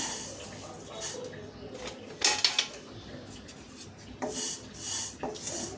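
Dry vermicelli (semai) being roasted in a dry pan with no oil, heard as soft scraping and rasping stirring strokes with faint clinks of the utensil against the pan, quiet and close.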